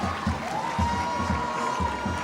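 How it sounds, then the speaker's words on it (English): Crowd at a graduation ceremony applauding and cheering as teachers walk in to their seats, a steady wash of clapping with a rhythmic drum-like beat pulsing underneath. "May we clap for them as they come in the seats."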